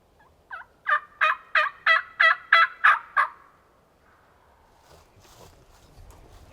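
A wild turkey gobbles close by during a hunt, a loud rapid burst of about eight gobble notes, followed by faint rustling and ambient noise.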